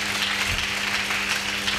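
A church congregation applauding and cheering, a steady dense wash of clapping with a low sustained hum underneath, loud and continuous throughout.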